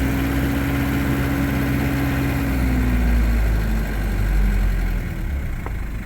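A 1992 Mitsubishi Pajero turbo diesel engine runs loud and steady as the hand throttle is slowly pulled, a deep rumbling drone with a gradually shifting pitch that swells slightly and then eases near the end.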